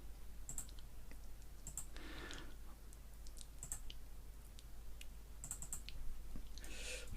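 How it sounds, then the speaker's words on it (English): Scattered computer keyboard key presses and mouse clicks come in short bursts and single taps, faint and close, over a steady low hum, with no talking, while working in Photoshop. "I'm going to press the escape key just to get rid of that."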